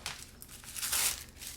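A plastic bag from a yoga pants and tops unboxing crinkles as it is handled up close, a short burst of dry rustling that swells briefly in the middle before settling.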